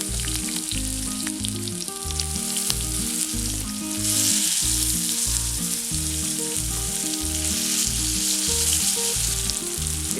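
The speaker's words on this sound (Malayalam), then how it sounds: "എണ്ണ ചൂടായി കഴിയുമ്പോൾ ഇതിലേക്ക് കുറച്ച് കറിവേപ്പില ഇട്ട് കൊടുക്കാം. അതിനുശേഷം ഈ ചിക്കൻ പീസസ് വെച്ച് കൊടുക്കാം." Chicken pieces fry with curry leaves in hot coconut oil for a Kerala-style chicken fry, giving a loud, continuous crackling sizzle over a steady tonal background.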